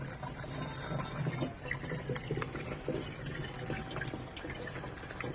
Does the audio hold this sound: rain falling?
no